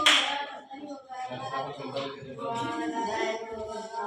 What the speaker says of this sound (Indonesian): Beri tepuk tangan untuk guru kita siap.